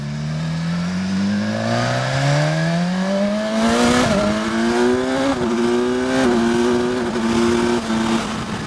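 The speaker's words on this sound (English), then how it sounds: "this bike's loud" A 2016 BMW S1000XR motorcycle with stock exhaust revs up through several gears, its loud exhaust note rising and dropping with each shift, close by.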